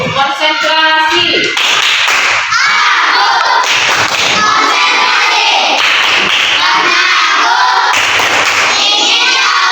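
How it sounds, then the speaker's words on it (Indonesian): Children in a classroom clap out a rhythmic concentration-clap chant, a loud steady pattern of claps mixed with young voices chanting throughout. "Tepuk konsentrasi."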